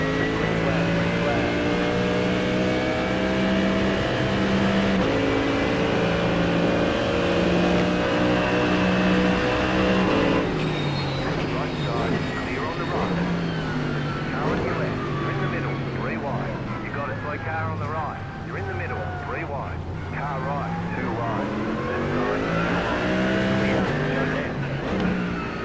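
A pack of race cars launches at the start of a six-hour endurance race in iRacing, loud layered engine drones rising and shifting pitch together as they accelerate, continuous throughout, with a voice talking over them.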